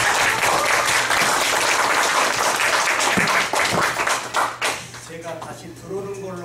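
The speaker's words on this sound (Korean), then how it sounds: "박수 소리가 굉장히 작습니다." An audience in a university lecture hall applauds steadily for several seconds, then the clapping thins out as a voice begins speaking.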